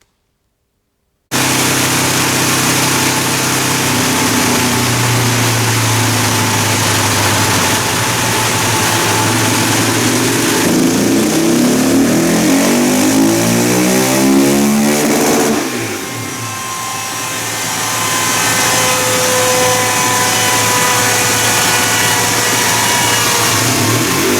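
A loud Husqvarna engine fitted with a tuning kit and Stage 1 kit revs hard and continuously, its pitch sweeping up and down through repeated accelerations, with no talking.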